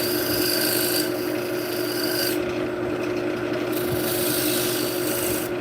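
A skew chisel cuts into wood on a spinning lathe while a big bowl is turned, giving a steady rasping, scraping hiss over the continuous hum of the machine, with a brief lighter stretch in the middle.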